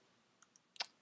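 A quiet single mouse click, a few faint ticks followed by one sharper click, close and brief in an otherwise still room.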